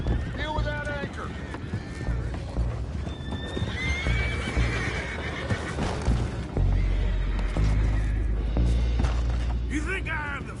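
In the video game Red Dead Redemption, horses whinny and neigh repeatedly over a clatter of hooves, close and loud, with characters talking and deep booms and thuds mixed in.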